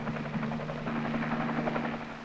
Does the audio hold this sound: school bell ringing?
no